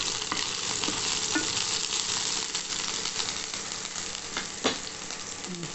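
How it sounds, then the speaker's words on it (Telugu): Ginger garlic paste stir-fried in hot oil for brinjal curry, a steady close sizzle and crackle throughout with occasional spatula scrapes and stirring clanks, no voices. "కొంచెం జింజర్ గార్లిక్ పేస్ట్, పచ్చిదనం పోయే వరకు కలపండి."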